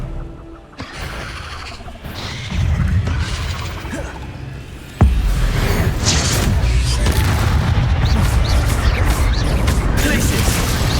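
A spell blast from a wand in the Hogwarts Legacy video game: a sharp booming crash at mid-clip that leaves a dense, loud rumble of magical combat effects, with game voices heard over it.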